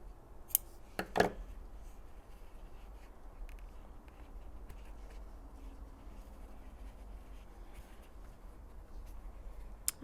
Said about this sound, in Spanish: Y cortamos el hilo.